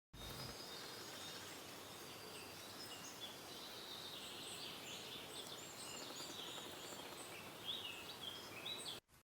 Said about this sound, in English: Here's the forest and the birds are singing here.